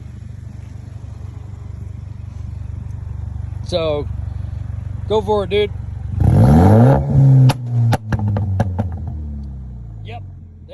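A car fitted with an upgraded exhaust revs hard in a loud, rising burst partway through, then settles back to a steady idle rumble. People talk over the engine before and after the rev.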